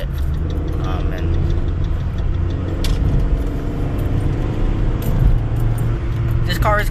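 A 2014 Fiat 500 1.4 Pop with a sport exhaust, heard from inside the cabin while driving: a steady, loud, low engine drone with a few faint rattles and clicks, and no speech.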